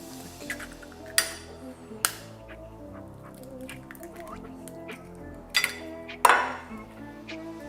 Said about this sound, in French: on casse les œufs.